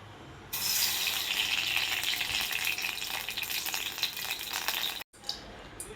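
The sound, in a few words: ghee heating and sizzling in a kadhai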